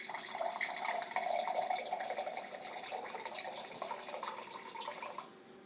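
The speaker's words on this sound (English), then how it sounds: "put it on the top, and it stops the water or fireball, and it dispenses" A Fireball whisky CS-HU dispenser pours chilled liquid in a steady splashing stream for about five seconds, then stops abruptly. No one speaks.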